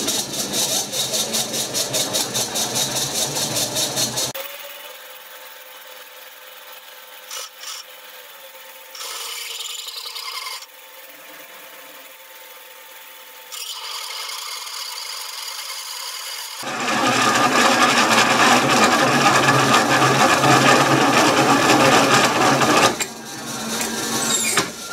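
A powered lathe slotter running a pilot drill in back gear and in reverse, with loud grinding and whirring cutting noise at the start and end, separated by a quieter stretch of low machine hum.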